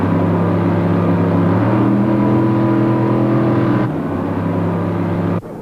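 1980s drag racing cars blast down the strip at full throttle, a loud, sustained engine roar with shifting pitch that drops slightly midway and then cuts off abruptly near the end.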